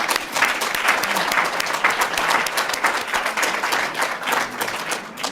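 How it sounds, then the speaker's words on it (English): An audience at a spiritual satsang gathering applauds a committee chair, a full, steady round of many hands clapping at moderate loudness, sustained evenly throughout. "Let's applaud him for working."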